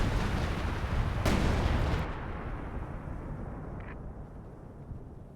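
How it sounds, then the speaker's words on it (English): In the video game Company of Heroes 2, an artillery barrage lands with heavy booming explosions and a sharp blast, then fades into a rumbling decay with a faint distant crack, and no voices. "Another artillery barrage being brought on in."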